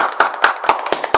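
Church congregation applauding at the close of a sermon, a brief burst of rhythmic hand claps with sharp, evenly spaced hits at moderate loudness.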